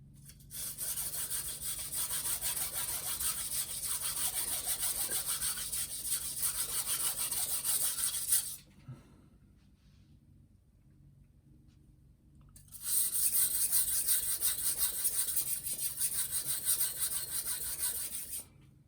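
A Takeda knife sharpened at a low angle on a whetstone: steady rhythmic rasping strokes, close and crisp, stopping for a few seconds of near silence before the grinding resumes.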